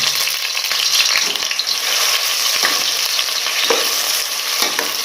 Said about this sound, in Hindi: उसके अंदर हम दरमियाने साइज का ये प्याज काटा हुआ है ये डालेंगे। ये फ्राई करेंगे लाइट ब्राउन होने तक।